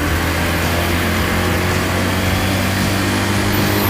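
A warmed-up Zipp Raven Lux 125 scooter engine runs steadily and close by with the choke still on, a continuous even drone holding a smooth, settled tone without revving.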